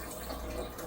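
Water rushing steadily from a home supply line right after a new pump is fitted, a brief, even hiss of flow at moderate volume.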